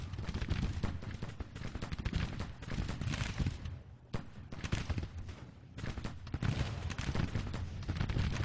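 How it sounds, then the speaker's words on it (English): Enfield rifles crackle in continuous ragged volleys across a Civil War strategy battlefield, many overlapping shots popping at a distance with brief lulls, dense and steady throughout. "Rucker armed with those Enfield rifles, really hitting the enemy or the cavalry at a distance"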